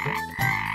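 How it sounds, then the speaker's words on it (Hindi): A frog croaks loudly and close in two short, rough, raspy bursts with a brief gap between them, and no voices are heard. "अरे मेंढक करते हैं टर टर"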